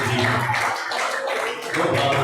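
A church congregation applauds strongly in a dense, continuous wash of clapping that swells, dips briefly and then rises again.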